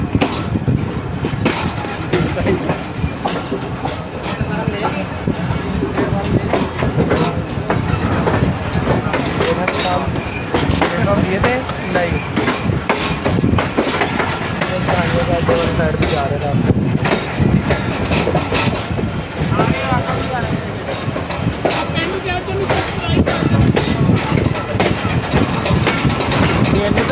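The 10 DN Allama Iqbal Express runs fast on the rails between Sahiwal and Khanpur, a loud steady rumble with rapid clickety-clack from the wheels heard from inside the moving train, continuous throughout.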